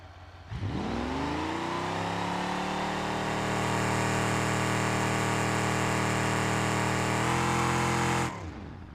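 A 1968 Dodge Charger's 383 engine with no exhaust revs hard in BeamNG.drive, a loud, sustained roar that climbs in pitch after a sudden start, holds steady and rises again before cutting off abruptly.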